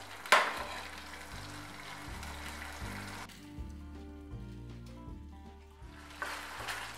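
Fried veg Manchurian balls are stirred into thickening gravy, giving a bright sizzle that is strongest at the start and again near the end. A steady low melodic background runs underneath throughout.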